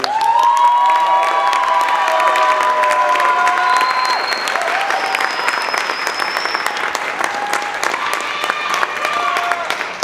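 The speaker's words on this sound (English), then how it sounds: "We should give them a round of applause." Audience at a spring school choir concert applauding and cheering, sustained clapping mixed with whoops and high shouts from a lively crowd, continuing throughout.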